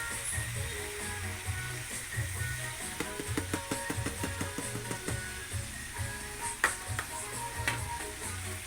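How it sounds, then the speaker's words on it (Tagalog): Onion and garlic sautéing in a pan for a garlic butter crab dish, a steady low sizzle with a run of quick ticking clicks and light clatter through the middle, moderately close and without talk. "lagay mo na yung sibuyas at saka bawang."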